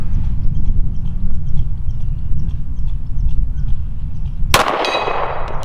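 A Standard Manufacturing case colored 1911 pistol fires a single sharp shot at a steel target, cracking loudly with a ringing metallic tail near the end after several seconds of steady outdoor background.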